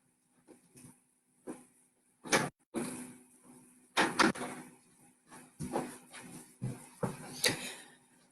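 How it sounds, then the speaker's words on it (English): A cat rattles and bangs a household door in repeated bursts of knocks and clatters, loud and close, with brief quiet gaps between the thumps. "my cat is going to take down the door."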